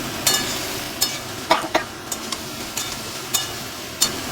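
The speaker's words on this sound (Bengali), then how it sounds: "ডাঁটাগুলোও ঠিক সেম প্রসেসে এরকমভাবে নিয়ে একটু ভাজা ভাজা করতে হবে, একটু কষতে হবে।" Note shak stems and shrimp fry in a pan for chochchori, with a soft steady sizzle beneath and a spatula clinking and scraping against the pan in irregular strokes.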